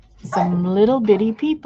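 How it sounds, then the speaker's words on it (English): A household dog barks and whines close by in short, tonal bursts that overlap someone talking. "That's the dog barking."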